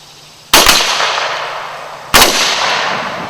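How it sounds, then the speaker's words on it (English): Loud black-powder musket shots from a Civil War infantry company firing by file, two sharp blasts about a second and a half apart, each trailing a long rolling echo outdoors. "Company, fire by file. Company, ready. Commence. Fire."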